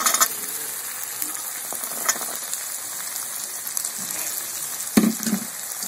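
Raw green peas tossed into a pan of chicken that has already been browned, a steady close sizzle with light scraping, one sharp clatter near the end as more ingredients go in.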